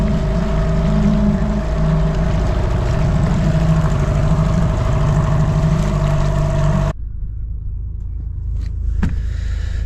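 A motorboat engine drones loud and close, steady and rumbling, while it tows a small sailboat, a pocket cruiser, then cuts off abruptly partway through, leaving a quieter low background with a faint knock near the end.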